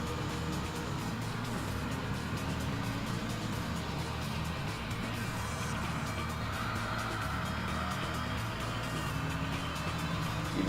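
A racing car engine drones steadily in Gran Turismo 3 during an overtake, a continuous mid-level motor roar with other cars nearby and no speech over it.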